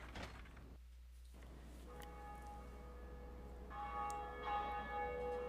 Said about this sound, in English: Conan finally reaches the bell and rings it.